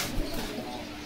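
Pigeons coo at a pigeon market in Bogura, a low soft cooing close by against busy market background noise.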